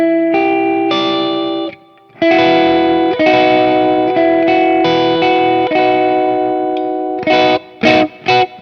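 An electric guitar on a custom Telecaster-style build plays through its Lambertones bridge pickup with a bright, chimey tone. Sustained chords ring loud and close with a brief gap, then end in a few quick strummed stabs.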